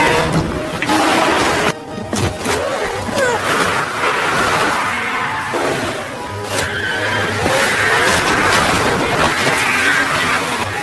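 A car driven fast through a zombie film action scene, roaring and skidding amid dense, loud cinematic noise with sharp bursts and continuous rumble.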